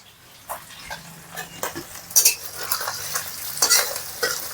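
Food frying in a pan in a village home kitchen, with bursts of crackling sizzle and stirring scrapes that come and go, fairly close, with no talk.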